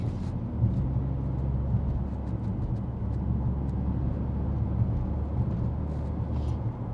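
A 2025 Mercedes-AMG GLC 63 S E Performance cruising on its gas engine, heard from inside as a steady low rumble and road drone with faint ticks over the top, holding an even level throughout.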